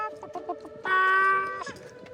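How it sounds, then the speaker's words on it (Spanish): A hen walking along makes a run of soft, evenly spaced clucks, then a louder drawn-out squawk, followed by a few more quiet clucks, close by and alone in a fairly quiet setting. "Una gallina caminando."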